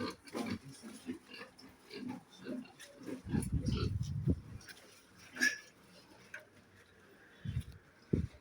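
Pigs on a pig farm during routine vaccination grunt and oink repeatedly at close range, with a louder burst of squealing and grunting midway, over faint talk.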